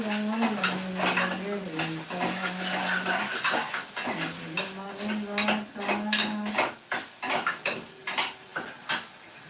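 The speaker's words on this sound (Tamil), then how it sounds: "வெண்டைக்காய் பதக்கிறேன்." Okra stir-fried in a home kitchen pan, a utensil scraping and clinking against the metal in irregular strokes over a soft sizzle, with a voice singing along nearby.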